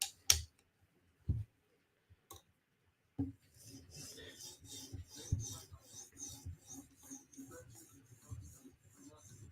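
A custom knife is sharpened on a 5000 grit CBN stone, first with a few isolated taps and clicks, then a soft, continuous rhythmic scraping of repeated strokes, close and fairly quiet.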